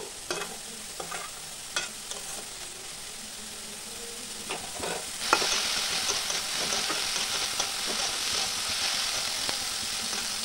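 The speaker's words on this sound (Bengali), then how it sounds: "ক্যাপসিকাম দিয়ে একটু ভাজা ভাজা করে নিয়েছি" Capsicum and carrot fry in a pan with a soft sizzle and scattered spatula clicks and scrapes, until the sizzle swells louder and steadier halfway through, with no voices.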